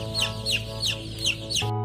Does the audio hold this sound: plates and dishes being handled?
no